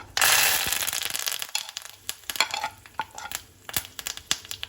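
Curry leaves hit hot oil for a tempering with a loud, bright burst of sizzling that settles into steady crackling, broken by sharp pops and the scrape of stirring.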